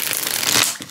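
Quick riffling of a large, slippery tarot deck, a short crisp flutter of cards under a second long.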